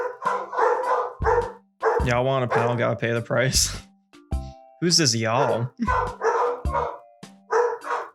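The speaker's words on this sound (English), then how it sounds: "Sorry if you hear my dogs in the background." Dogs bark in the background at home while someone talks over them, the yelps and barks surfacing between and beneath the steady speech.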